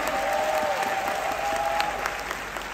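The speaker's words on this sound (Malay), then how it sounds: "Tepukan untuk Datuk." An audience at an Amway business event applauds steadily throughout, a dense continuous wash of many hands, with a faint tonal line running underneath.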